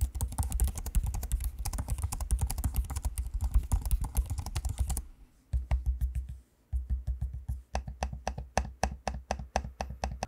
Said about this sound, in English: take a quick listen to me using the keyboard and the trackpad so you can hear what that sounds like